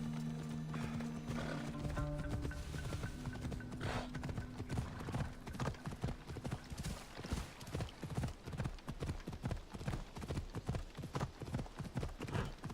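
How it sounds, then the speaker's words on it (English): A horse in Assassin's Creed Odyssey gallops in quick, rhythmic hoofbeats, with a whinny near the start, the hooves loud and close throughout. "Horse!"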